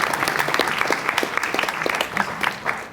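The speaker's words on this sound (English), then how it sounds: "So huge round of applause for" A comic convention panel audience claps steadily, a dense, lively round of applause that holds at a fairly loud level throughout.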